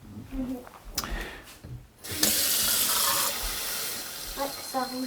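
A tap runs water into a container of fermenting root vegetables as a steady close gush that starts abruptly, preceded by brief clinks and followed by faint voices.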